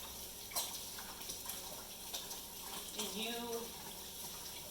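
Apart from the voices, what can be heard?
hands being washed under a running tap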